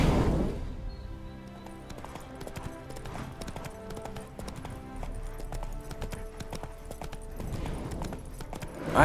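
Horse hooves clip-clop steadily beneath game music in The Witcher 3: Hearts of Stone, with a brief whinny from the horse as it spooks, the footfalls moderately close and continuous throughout.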